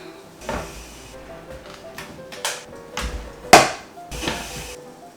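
Olives are chopped for a homemade spaghetti casserole in a kitchen. Several irregular knocks and clattering thuds land on a hard surface, fairly close and loud, with short pauses and no talking.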